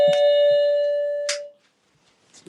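A two-tone electronic doorbell chime rings out clearly, the first note sustaining and decaying over about a second and a half, then quiet with faint rustling.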